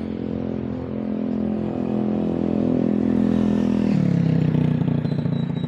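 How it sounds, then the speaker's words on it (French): Small-displacement scooters rev loudly and harshly on a street in Playa del Carmen, Mexico, with a buzzing engine note that climbs and then drops sharply, heard close and continuous. "Ils rendent ouf avec leurs scooters de merde, avec leurs petits cylindrés qui font trop de bruit."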